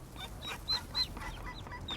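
A duck mother and her newly hatched ducklings call in the city of Berlin with short, high peeping chirps repeating every few tenths of a second, fairly faint over a low background rumble.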